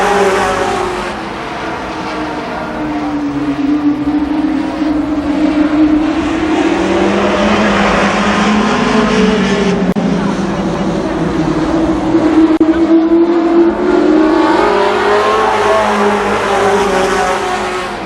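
Race cars lap the oval at Columbus Motor Speedway, a sustained loud engine drone rising and falling as the pack circles, with an announcer calling the race over it.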